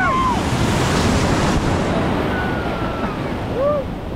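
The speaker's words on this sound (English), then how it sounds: "Oh, these waves." Large surf crashes and rushes continuously at Copacabana beach, a loud broadband roar with wind buffeting the microphone and a few faint whistle-like tones over the waves.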